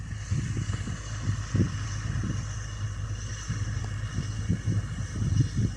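Six-cylinder diesel engine of a Komatsu PC210MO excavator idling on an earthworks site, a low steady rumble with uneven chugging pulses, heard fairly close with a faint high whine above.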